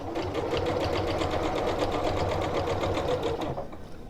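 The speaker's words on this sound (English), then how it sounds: "I'm going to sew right off the edge" Sewing machine stitching right off the edge of a reversible tote, one steady close run of rapid stitching that slows and stops near the end.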